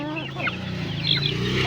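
Chickens on a poultry farm cluck and chirp continuously, fairly loud and close, against a steady low farm hum.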